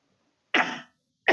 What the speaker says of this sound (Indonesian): Aduh, jadi batuk.